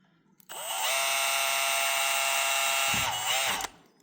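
Electric drill boring pilot holes into a microphone base plate, a loud steady whine that starts abruptly and runs for about three seconds, with a brief dip in pitch as the bit bites, then cuts off sharply.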